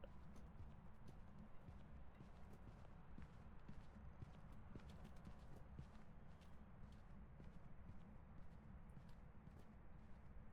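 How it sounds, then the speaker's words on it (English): Distant footsteps of a ghost in a horror video game, a steady run of soft, evenly spaced thuds like clip-clopping hooves that continues without pause over a low constant rumble. "It's still far away and I can kind of hear its footsteps."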